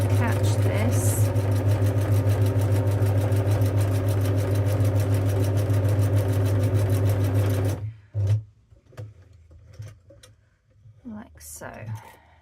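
A sewing machine stitches slowly through an art journal page with a steady, rapid mechanical whirr. It stops partway, leaving quiet handling noises and soft talking.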